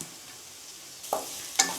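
Quiet sizzling of okra with mint and coriander in a pan, with two sharp scraping stirs near the end, no voices present.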